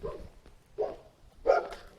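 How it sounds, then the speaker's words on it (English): A dog barks three times outdoors, somewhat distant, with irregular spacing between the barks and no talk over them. "there's a dog barking anyway"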